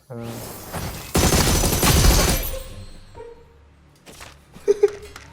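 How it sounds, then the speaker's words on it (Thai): A burst of rapid gunfire in PUBG Mobile rattles out loud and close for over a second, then fades into scattered game sounds and a few sharp later hits. "เสียงปืนมันดังเลย"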